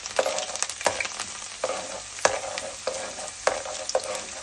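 Chana dal and garlic frying and being stirred in a pan, with repeated scraping stir strokes about every half second over a soft sizzle, close and alone.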